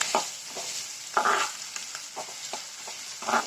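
Large, chopped onions sauté in a pan, with close-up stirring scrapes and soft, intermittent sizzling in short bursts.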